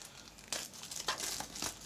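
Plastic and paper packaging of a Razer Huntsman Elite keyboard being opened, quiet crinkling and rustling in a few short bursts, with no one talking.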